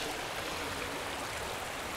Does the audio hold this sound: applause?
no